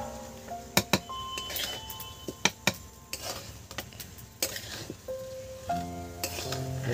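Fried vegetables are stirred into a pot of bhog khichuri made with moong dal, giving repeated close clinks of a spoon against the pot and soft scraping, with a faint sizzle underneath.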